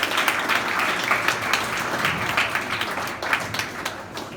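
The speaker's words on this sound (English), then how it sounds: "let's give him a round of applause" Applause from a school audience at a motivational speech, a sustained, fairly loud roar of many people clapping with individual claps standing out, steady throughout without speech.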